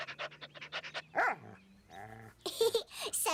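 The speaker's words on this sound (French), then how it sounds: "Oui, c'est vrai que c'est un très beau chien." A cartoon dog in a French-language animated episode makes a quick run of short yappy barks and panting sounds, then a whiny growl-like vocalization, with short bursts of cartoon voices around them.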